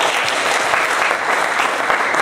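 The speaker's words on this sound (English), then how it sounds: "Let's give them a big round of applause." Thick, continuous applause fills a hall as an audience at a music program honours its organising committee members, even and unbroken throughout.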